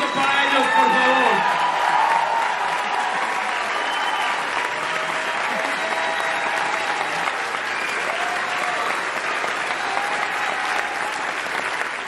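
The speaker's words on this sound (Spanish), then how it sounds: "que se escuche fuerte el aplauso para ellos, por favor." A live event audience applauds the orchestra with dense, steady clapping that runs the whole time. A few voices sound early on.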